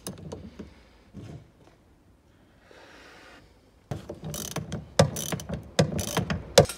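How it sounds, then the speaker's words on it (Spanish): A long wrench loosens a nut on the rear shock absorber of a 2005-2012 Chevrolet (Daewoo) Lacetti Optra: scattered ratcheting clicks and knocks, then a louder run of sharp metallic clanks and rattles close by, with no talking. "Encajamos la llave para que afloje esa tuerca."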